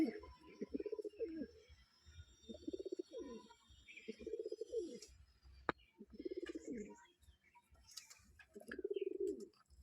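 Golden, teddy, Punjabi Malwa and kalsira pigeons coo in a loft, giving about five rolling, throaty bouts at a regular pace. The sound is fairly soft and close, with faint chirps and a brief knock in between.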